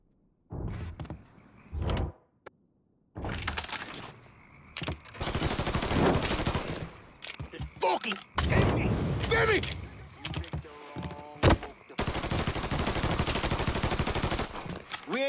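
Gunfire from the Mafia 3 video game: bursts of rapid shots in repeated stretches, some sustained and dense, mixed with explosions and in-game shouting voices.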